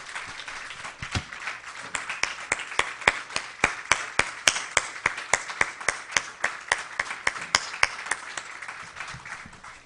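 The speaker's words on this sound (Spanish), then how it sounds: "¿Cuántos podemos dar un aplauso al Padre en esta hora?" A church congregation claps together in a steady, rhythmic beat, sharp unison claps repeating about three times a second, fairly close, with scattered cheering and voices beneath.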